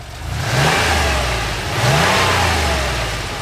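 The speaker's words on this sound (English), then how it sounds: "sounds like a good old Porsche" Close and loud, a 1987 Porsche Carrera engine blips its throttle twice, each rev rising and falling back over a steady idle, with no voices.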